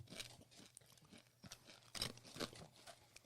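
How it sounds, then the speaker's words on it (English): Crunchy bites and chewing of Hot Ones Pringles crisps close to the mic, a quiet run of irregular crackly crunches with no talking. "How about that chewing on the mic"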